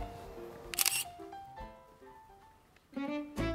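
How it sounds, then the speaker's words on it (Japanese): A camera shutter clicks in short bursts at a wonton noodle restaurant in Toyama, one quick cluster early and two sharp snaps near the end, over faint tonal background sounds. "それでは写真撮ります。"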